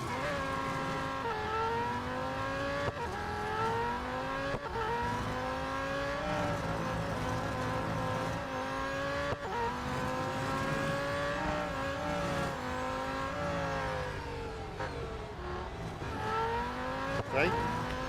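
A race car in the Real Racing 3 video game drives hard, its engine droning and revving steadily with gear shifts rising and falling throughout, with a brief tire squeal near the end.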